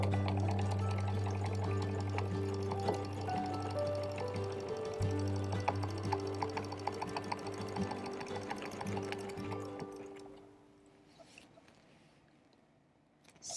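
Sewing machine stitching inside ovals, a steady rapid mechanical whir with fast needle clatter running for about ten seconds before stopping, leaving near silence.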